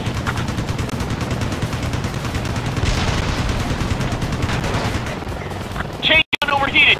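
Rapid chain gun fire from an attack helicopter in the combat game Ace Combat Assault Horizon, a loud continuous burst mixed with engine roar and explosions, with radio chatter over it and a sharp crackle near the end.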